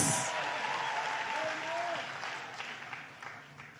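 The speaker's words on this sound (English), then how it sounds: "can you give God a shout of applause" Steady applause from a church congregation, a dense wash of clapping that holds for several seconds and slowly thins out.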